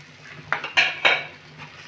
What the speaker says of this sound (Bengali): আলুটাকে কিন্তু আমি মশলার সাথে ভালো করে মিশিয়ে নেব